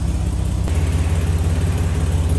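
Steady, close idle of the stock inline six in a 1954 Chevrolet Bel Air, a low, even rumble with a regular pulse and no revving or talk.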